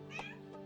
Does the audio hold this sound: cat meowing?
yes